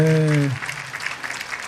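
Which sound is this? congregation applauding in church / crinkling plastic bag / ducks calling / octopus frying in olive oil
congregation applauding in church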